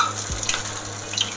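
A sabudana vada hisses and crackles as it fries in hot oil, a brief, steady, close sizzle with no voices.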